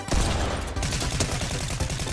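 Rapid gunfire in a video game, a dense loud burst of repeated shots running through the whole short stretch, close and alone.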